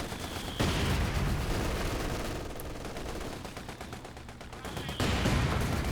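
Machine gun and mortar fire in the video game Company of Heroes 2, a 4v4 forest battle: dense bursts of gunfire and explosions, with a louder barrage at the start and end and a commentator talking over it.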